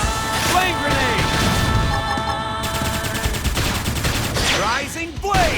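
Rapid bursts of gunfire in the Xenoblade Chronicles X combat, dense and loud, layered over a busy mix of battle effects, music and shouted voices throughout.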